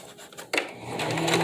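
A sewing machine stitches a fabric face mask seam, starting abruptly after a quiet moment with a few faint clicks, then running in a steady mechanical whir close by.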